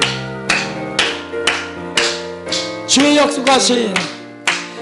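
A church congregation claps in a firm, even beat, about two claps per second, while voices sing a hymn over the loud, close hand claps.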